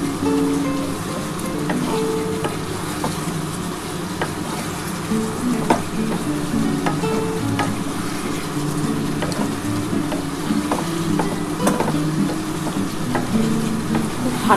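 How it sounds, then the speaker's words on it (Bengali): Egg, potato and soybean sizzle in a pan with spices while being stir-fried, a continuous close frying hiss with frequent scraping and clicking of the stirring utensil, no talk. "ভালো করে সমস্ত মশলা দিয়ে ডিম আলু সোয়াবিনটাকে কষিয়ে নিলাম"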